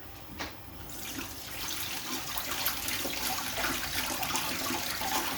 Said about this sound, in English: I'm washing my basil.